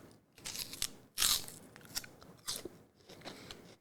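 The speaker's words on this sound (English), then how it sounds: "So you can hear there's a big crunch to it." Crisp bites into a Ya Li Asian pear, several sharp crunches and chewing sounds up close, with one loud bite standing out in the middle and no talking.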